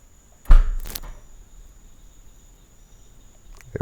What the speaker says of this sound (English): this vehicle is actually equipped with automatic trunk release. Okay, listen for the pop.